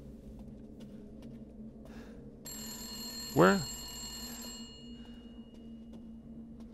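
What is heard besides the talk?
telephone ringing in video game Resident Evil Village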